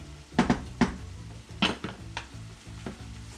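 Browning meat for bobotie sizzles in a pan while a utensil scrapes and knocks against it a few times, a steady frying hiss underneath the sharper clatters, close and fairly loud with no talking.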